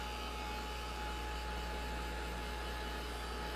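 A hair dryer blowing to dry matte medium on a painting, a continuous steady whooshing hiss with a low motor hum, close and unchanging throughout.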